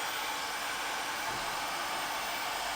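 A heat gun blows hot air onto Dodo Mat sound-deadening material in a car, giving a steady, even broadband whoosh that holds constant throughout at close range, with no talking.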